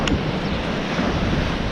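Surf washing onto the seashore in Mallorca on a cold day, a steady broadband roar of breaking waves with wind buffeting the microphone and no voices.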